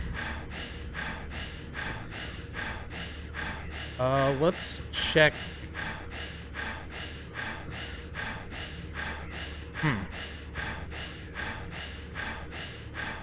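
Rhythmic heavy breathing from Silent Hill 3 pulses steadily throughout, a regular ambient rasp under a brief spoken comment and a couple of short sharp effects.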